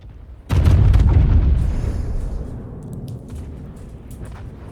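Battleship main guns fire a single heavy salvo at an enemy destroyer in World of Warships, aboard the Kremlin: a loud, deep boom with a long rumbling decay, no talk over it.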